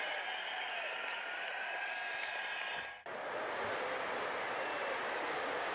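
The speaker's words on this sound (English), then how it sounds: "You hear the crowd in the background." A dense, steady roar of a large crowd cheering at a USARC Pro Cup stock car race at Homestead-Miami as engines fire, continuous and loud, with a brief dip near the middle before the noise swells back.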